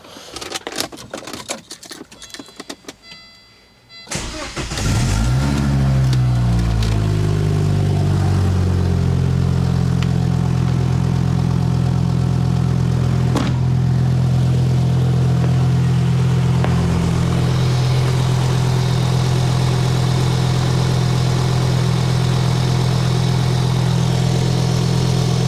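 A Volvo 850 Wagon engine cranks briefly after a few seconds of quiet, catches and settles into a steady, close idle that runs on for about twenty seconds, with no talking.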